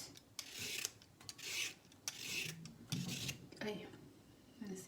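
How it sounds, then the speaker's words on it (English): A peeler scraping carrots in a home kitchen makes a string of rough, rasping strokes in quick bursts, each a short dry scrape, with some soft talking in the background. "We're peeling the carrots."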